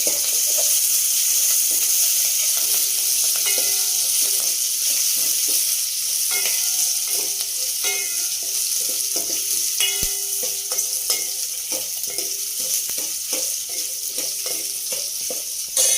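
Green and dried chillies frying in hot oil in a pan for rasam, a steady bright sizzle throughout with occasional clinks and stirring scrapes, no voices.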